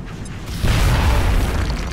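In the video game XCOM: Enemy Within, a grenade explodes with a loud, close boom that swells into a sustained, rumbling blast and then slowly fades.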